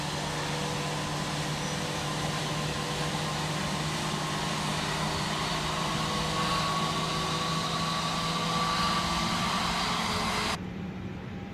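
An airliner engine in Microsoft Flight Simulator 2024 on PS5 gives a steady, sustained whine and hum with a faint rising tone, even and unbroken before cutting off abruptly near the end.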